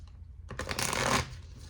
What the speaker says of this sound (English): I'm going to shuffle this deck. This is the Message of Love Oracle deck.